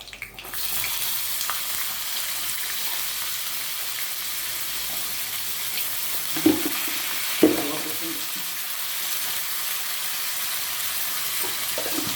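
Onions and cumin frying in a pan give a steady, close, hissing sizzle that runs throughout, with a couple of brief clanks from stirring partway through.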